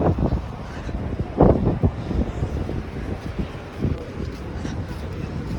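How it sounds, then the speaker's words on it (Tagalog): Gusty wind buffets the microphone in rumbling bursts, with a few muffled voices and background activity mixed underneath. "Sarap mahangin dito."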